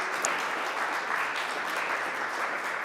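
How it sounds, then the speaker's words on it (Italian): An audience of school pupils claps continuously in a hall, a steady dense wash of applause with no break. "Fatevi un applauso."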